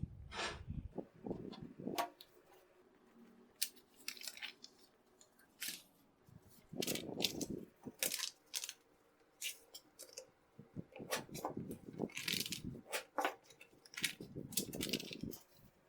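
Scissors or a cutter trims fabric seam allowance along a ruler during foundation paper piecing of a quilt flower block, giving quiet, irregular snips and crisp cutting strokes with soft handling noises between them.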